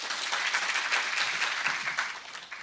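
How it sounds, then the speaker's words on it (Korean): Audience applause fills a Korean lecture hall after a talk on the Russia-Ukraine war, a dense, steady wash of many hands clapping at moderate loudness for the whole stretch, with no voice over it. "제 생각이 옳다고 생각하면 박수 한번 해보세요."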